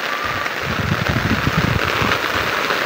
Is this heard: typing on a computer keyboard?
no